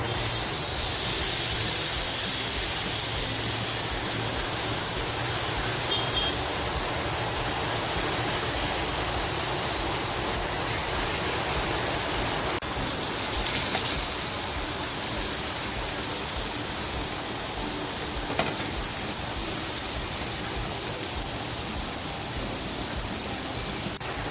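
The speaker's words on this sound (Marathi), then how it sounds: "आता जो हलवा आहे ना तो हलवा मी फ्राय करायला ठेवून देते" Pomfret (halwa) fish frying in oil in a pan, a steady loud sizzling hiss that holds evenly throughout without talk.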